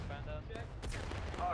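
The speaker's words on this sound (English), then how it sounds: "Oh, they just dodged that arty shot." Booming artillery shot in the Civil War game War of Rights, a sharp blast amid scattered musket fire, with a voice talking over it.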